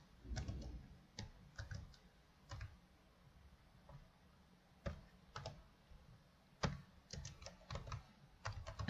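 Quiet computer keyboard typing in short irregular bursts of crisp clicks separated by pauses, close to the microphone with no talking.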